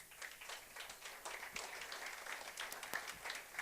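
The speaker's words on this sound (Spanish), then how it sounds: "Y vamos al Paz César con un aplauso" A church congregation gives a round of applause, a faint and distant spatter of many hands clapping steadily through the short moment.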